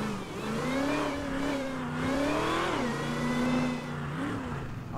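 A loud car engine revs in the video game GTA, a continuous close roar whose pitch climbs, dips and swells again over several seconds, with no voices.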